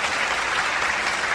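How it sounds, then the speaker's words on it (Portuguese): A round of applause from a television studio audience, dense and even clapping throughout a short burst with no voices. "Ricardinho, salva de palmas pra TV em tempo."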